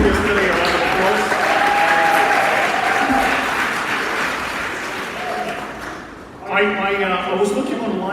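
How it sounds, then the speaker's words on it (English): An audience at a festival main stage applauds the speakers with steady, dense clapping for several seconds, tapering slightly before a voice rises over the clapping near the end. "can you give all the speakers that spoke yesterday a round of applause?"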